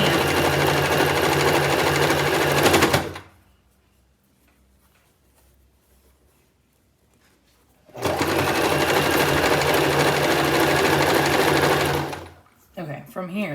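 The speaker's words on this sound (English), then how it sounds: "So I'm gonna sew here rather than sewing straight here." A sewing machine stitches fabric for a scrunchie in two long, steady, close runs of rapid mechanical chatter, separated by a quiet pause with faint handling sounds.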